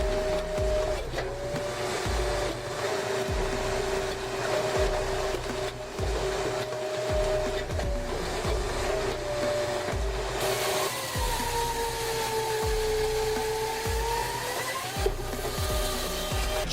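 A Splitmaster 30T firewood splitting machine works steadily, its hydraulic whine holding a tone that later shifts pitch, over a regular thumping cycle of splits and clunks roughly every second, loud and close with no talking.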